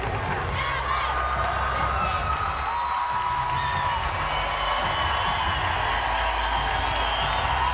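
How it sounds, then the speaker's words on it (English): A crowd at a women's gymnastics championship cheers at scores arriving from other events, a steady roar of voices, whoops and scattered shouts filling the arena throughout. "Crowd responding to scores coming in from other events"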